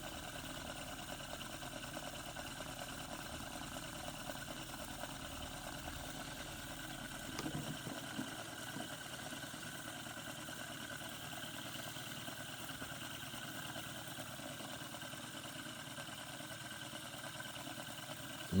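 A coil motor spinning fast at around 500 RPM gives a steady, faint hum with a constant whine and no clear change across the whole stretch.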